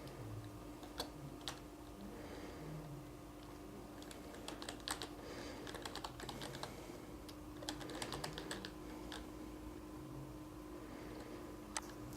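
Fingers tap steadily on a computer keyboard while an account name and details are entered, producing quiet, close clicks in irregular bursts with brief pauses, no voices.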